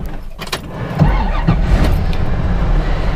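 A 1970 Buick GS engine cranks and catches, then settles into a steady low rumbling idle, close and moderately loud, with a few clicks and rustles just before it starts.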